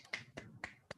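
A lone person claps during an online seminar, four quiet separate claps in an uneven rhythm, close and faint.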